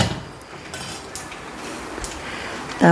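Mustard seeds crackle and pop in a hot pan on a large burner, a steady sizzling hiss broken by scattered sharp spits, close and fairly loud.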